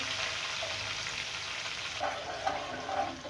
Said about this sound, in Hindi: लहसुन अदरक हमारा बहुत अच्छी तरह भून गया